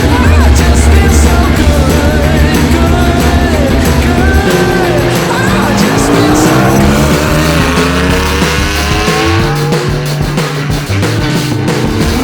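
A budget BMW E46 race car build lapping a track at a June Jam track day, its engine droning loudly and continuously throughout, with revs climbing in rising sweeps through the gears toward the end.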